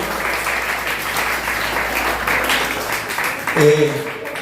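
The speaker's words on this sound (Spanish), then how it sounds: "Damos palmas a nuestro Dios." A church congregation claps together for God during a Spanish-language Sunday service. The steady, dense applause fills the room for several seconds before it thins and a voice rises near the end.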